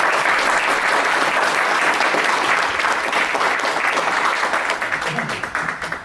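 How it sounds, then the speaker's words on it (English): A roomful of people at a county commissioners' court meeting applauds a student, a loud, steady burst of clapping that holds dense and even before thinning and tapering off near the end. "join me in a round of applause and congratulating her for making it to state"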